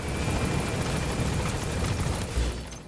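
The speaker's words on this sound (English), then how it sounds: "A chopper?" A helicopter in the Metal Gear Solid V: The Phantom Pain video game, a loud, steady rotor roar with a faint rhythmic chop, continuous and close throughout.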